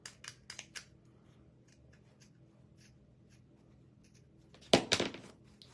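Small scissors snip at a craft piece for holiday decor, a quick run of light cuts at the start, then a louder, denser burst of snipping near the end, close and dry with no talking.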